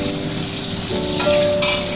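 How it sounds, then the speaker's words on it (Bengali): New potatoes sizzle in a pot for a vegetarian alur dom, a steady close frying hiss with a faint hum underneath and a brief clink partway through. "এবার আমার হাঁড়িটা ভাজা ভাজা হয়ে এসেছে, আর একটু হলে পরে আমি তুলে নেব।"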